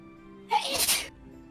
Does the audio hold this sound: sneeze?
yes